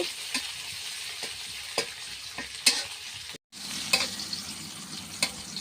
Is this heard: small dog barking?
no